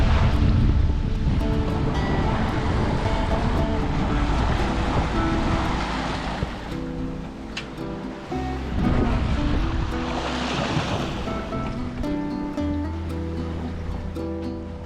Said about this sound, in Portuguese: o vento apertou um pouco e ficou por volta de 20, 25 nós